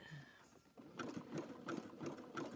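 A home sewing machine stitching a rope bowl, its motor whirring in steady, rapid bursts with a rhythmic mechanical pulse, fairly faint and close, starting after a brief quiet lead-in.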